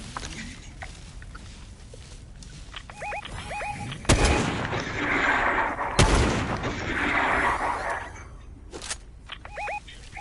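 Gunfire in Fortnite: two loud, sharp blasts a couple of seconds apart, each trailing into a rumbling echo, set among lighter ambient chirps and small clicks.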